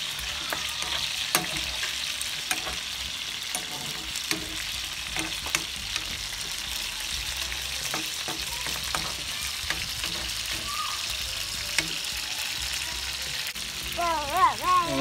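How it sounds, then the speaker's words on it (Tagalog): Squash sizzling and being stirred in a hot pan while sautéing pinakbet, a steady fry with scraping spatula strokes throughout, ending with a voice speaking. "Pag talagay ng kalabasa, ahaluin lang natin siya."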